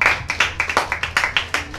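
Claps ring out after a live Halloween cover-band concert, a sparse group of audience members clapping in a steady, fairly close rhythm with no talk over it.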